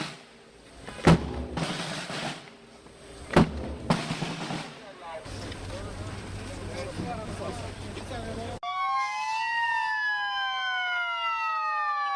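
An ambulance siren rises and falls loudly and steadily in the last few seconds, after a stretch of crowd noise, sharp bangs and voices.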